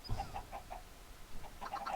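Chickens in the Minecraft video game give a few soft clucks, faint and fairly close, in short scattered bursts with no voices.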